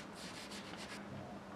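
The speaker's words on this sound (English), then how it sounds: "sanding the inside of one, sanding the outside of another" A part of the sail shell of a USS Nautilus SSN-571 model submarine is sanded by hand, a soft rapid scratchy back-and-forth rasping in short even strokes, close but quiet.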